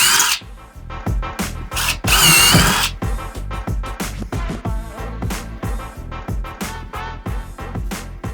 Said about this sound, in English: just drill a little pilot hole